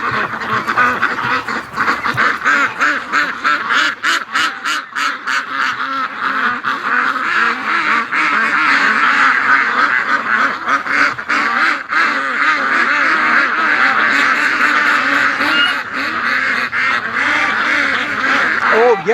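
Many ducks, including Muscovies, quack continuously and loudly inside a crowded barn, a dense overlapping chorus of rapid calls close by, with some talk mixed in.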